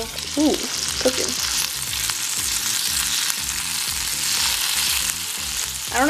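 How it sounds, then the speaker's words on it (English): Sausages sizzle steadily in a pan on a stovetop, a close, continuous frying hiss with soft crackles and a few faint clinks, no voices. "Sausage on the stove. Ooh, cooking."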